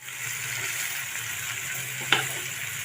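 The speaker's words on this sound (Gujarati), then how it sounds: "આ રીતે આપણે ચમચાથી હલાવી લઈશું." A spoon stirs dry vegetable curry in a pan, giving soft continuous scraping and faint sizzling, close and quiet, with one sharp clink near the end.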